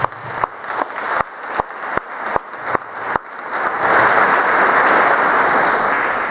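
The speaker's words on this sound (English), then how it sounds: "Give me a round of applause." An audience at a high school athletic hall of fame induction claps, beginning with a few sharp, evenly spaced claps that swell into full, sustained applause filling the room.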